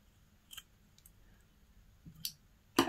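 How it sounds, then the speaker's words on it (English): Scissors snip through the two loose ends of a ball of yarn, a few short crisp clicks and cuts spaced apart, close and quiet, with a louder rustle at the end. "all you do is you cut off the two ends that you've got"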